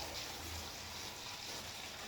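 Water gushes steadily into a container, about five gallons poured to load a model truss bridge, a continuous close rushing sound with no talk.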